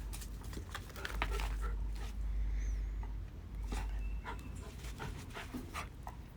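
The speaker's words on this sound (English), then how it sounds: "the puppies are running around crazy" Puppies panting and scrambling about nearby, running around wildly, with bursts of quick breathing and scuffling over a steady low background rumble.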